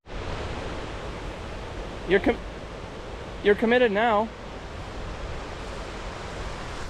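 A Colorado mountain waterfall roars steadily and close by, a continuous broadband rush that fills the whole stretch, with a couple of short bursts of talk over it.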